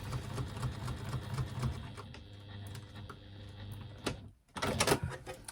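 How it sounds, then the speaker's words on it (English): A sewing machine stitches a fabric strap in a fast mechanical whir that slows and stops, followed by a few clicks and handling noises close by. "I find myself zooming away when I've got nothing actually stitching underneath my foot anymore"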